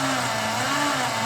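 A 1961 Triumph TR3A high-torque starter grinds on continuously, straining to turn a cold engine filled with thick fresh oil; a loud, even mechanical drone that does not catch, with no voices.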